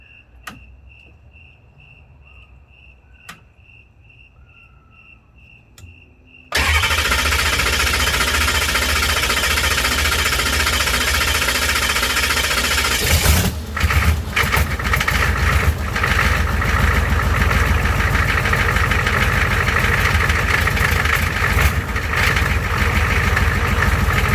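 An M1152 Humvee engine starts after near silence broken by a few faint beeps, then settles into a loud, steady, rumbling idle that roughens slightly partway through.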